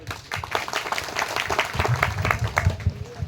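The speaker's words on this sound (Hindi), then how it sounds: "एक बार जोरदार ताली फिर से हमारे दादा मरावी जी के लिए" A crowd claps loudly for an elder at a Gondwana music event, uneven bursts of applause mixed with talk and some low thumping.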